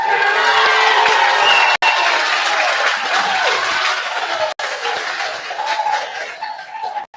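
A crowd in a hall cheers, claps and whoops after a local election result is declared, a loud, continuous roar of mixed voices and applause lasting several seconds.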